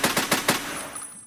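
An AK fired fully automatic in the Escape From Tarkov game: a quick burst of four sharp, evenly spaced shots, then a brief ringing tail. No one speaks.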